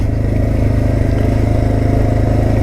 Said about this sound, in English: let's test the engine braking